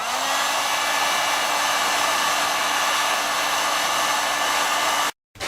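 A hot air blower runs at a steady, loud, close whoosh while heating the end of a white PVC pipe, then cuts out abruptly near the end. No voices.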